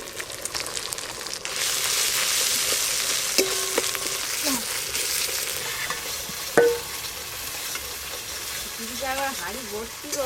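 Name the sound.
frying ginger and cumin paste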